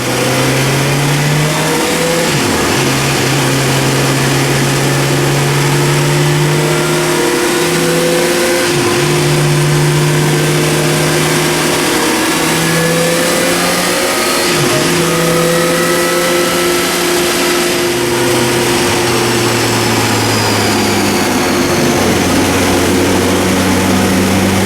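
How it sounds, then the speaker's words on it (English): A 2017 Suzuki GSX-R1000 motorcycle on a dyno during break-in, its engine holding a steady loud drone that climbs and dips through several rev changes, with brief drops between pulls, continuous and close with no talk. "I was like sneaking in just one dyno run just to see what we've got"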